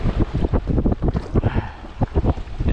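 Wind gusting over open sea around a jetski out fishing in cold water, heard as a steady rushing roar with buffeting microphone noise and broadband hiss, close and loud, with no talking.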